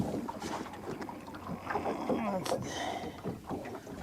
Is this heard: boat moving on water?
yes